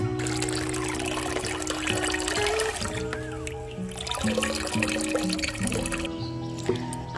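Water is poured steadily to mix with cow dung fertilizer for garden plants, a continuous close trickle that runs the whole time over a constant tonal hum in the background.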